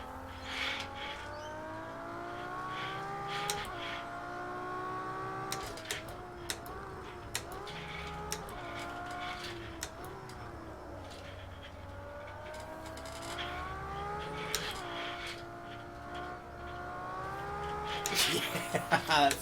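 Race car engine in the Project CARS 2 racing game, run on a motion simulator, revving and shifting continuously with rising and falling pitch and occasional tire noise, close and steady throughout.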